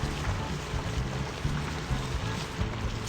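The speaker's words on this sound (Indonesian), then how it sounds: "Aku adalah truk pengaduk beton. Aku datang kemari untuk meletakkan beton." A cartoon concrete mixer truck pouring concrete, heard as a steady wet, sloshing rush with a low rhythmic churning underneath, continuous and fairly close throughout.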